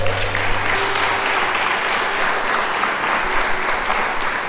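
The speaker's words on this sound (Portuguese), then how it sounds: "Dá um aplauso para Jesus aí" A church congregation applauds steadily for several seconds, a dense, even wash of clapping from many hands filling the room, with a faint low hum underneath.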